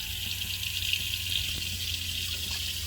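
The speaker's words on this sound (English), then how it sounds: "So the sink does have running water." Water runs steadily from the tap into a small sink in a DIY converted Sprinter camper van, a constant close splashing hiss with no talking.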